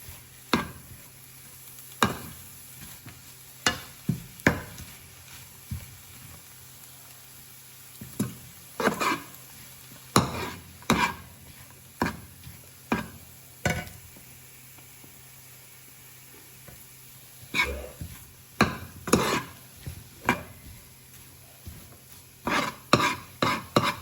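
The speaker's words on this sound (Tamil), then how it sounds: "நல்லா இப்படி நாங்கள் வாட்டி கொண்டு வர வெங்காயம் கொஞ்சம் கலர் மாற தொடங்கும்" Sliced onions and vegetables for mutton fried rice are stirred and tossed in hot oil in a pan, with scattered sharp scrapes and clatters of the utensil over a low background sizzle, in irregular bursts close up.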